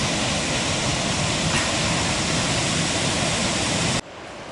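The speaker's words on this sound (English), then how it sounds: "This is the stream we just crossed, only a few feet further down." Mountain stream rushing just downstream of a trail crossing near Rock Creek on the Pacific Crest Trail, a loud, steady, dense roar of water that holds constant before dropping abruptly in level near the end.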